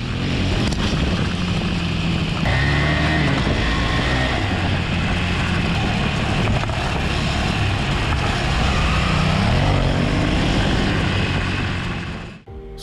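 A KTM 390 Adventure-class motorcycle accelerates hard off-road with traction control switched off, a loud continuous engine roar that swells and climbs in pitch before cutting away abruptly at the end.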